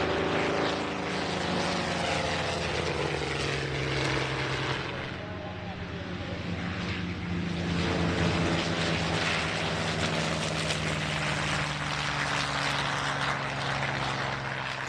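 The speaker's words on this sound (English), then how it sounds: "This formation comprises a Bearcat, Yak 9, Mustang and Corsair." A formation of propeller fighters, a Bearcat, Yak-9, Mustang and Corsair, drones steadily overhead at an air show, a loud continuous piston roar that swells slightly midway.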